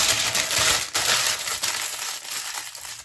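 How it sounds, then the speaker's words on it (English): Parchment paper crumpled by hand while making after eight fudge, giving a continuous dense crackling and crinkling close by for about three seconds, with brief dips in intensity. "So I'm gonna crumple it up like I did last time."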